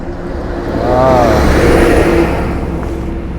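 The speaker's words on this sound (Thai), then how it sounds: "รถตักหิมะนะครับ" Snowplow truck engine passing outdoors on a snowy Russian night, a steady loud rumble and whir that swells in the middle and fades, alone without talk.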